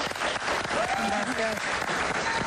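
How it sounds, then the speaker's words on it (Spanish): A studio audience gives loud, sustained applause for a guest on a Spanish-language talk show, with a voice briefly speaking beneath the clapping. "un aplauso para ella, por favor"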